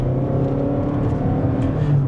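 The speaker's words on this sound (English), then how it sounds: "you are going to get some drone out of that four-cylinder" A Toyota Crown Signia's four-cylinder hybrid engine drones steadily while accelerating hard to merge, a constant low hum heard from inside the cabin with no talk.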